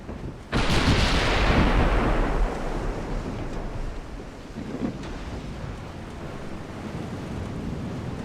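A warship's big guns fire in Ultimate Admiral: Dreadnoughts: one heavy, booming blast lands near the start and rumbles away over several seconds, followed by a fainter thud later on.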